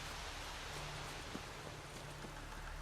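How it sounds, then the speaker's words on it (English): Steady rain in The Witcher 3, a broad, even hiss with soft scattered drops and a low constant hum beneath, continuous and fairly quiet throughout. "Looks like rain."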